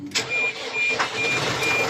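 A tractor engine cranking and catching, a rough mid-pitched motor noise that starts after a brief click and runs on steadily and fairly loud, with no talk.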